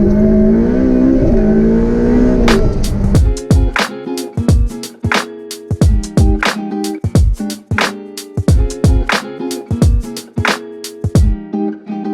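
Ferrari F8 Spider with a turbo engine, a loud close idle rising into a rev, then a rapid series of sharp bursts and gear changes as it accelerates hard.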